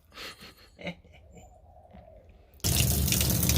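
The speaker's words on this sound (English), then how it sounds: "License to fill this bathtub." Water gushes from hoses into a backyard bathtub being filled as a hot tub, a sudden loud steady rush bursting in after a quieter stretch of faint rustling and small knocks.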